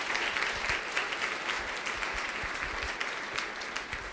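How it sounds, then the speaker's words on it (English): An audience at a HUD event applauds Secretary Castro, a steady wash of clapping from many hands that holds evenly throughout, moderately distant and fairly soft. "Could we give Secretary Castro a round of applause?"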